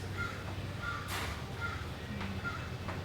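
A crow caws outdoors, giving several short repeated caws at a moderate distance over a low steady background hum.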